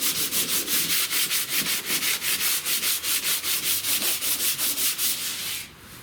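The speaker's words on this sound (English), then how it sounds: "I go over to DA, get the majority of the biggest of the rust off" A DA sander grinds heavy surface rust off the hood of a 1970 Buick Wildcat, a loud continuous abrasive whir pulsing in a steady rapid rhythm for several seconds before easing off at the end.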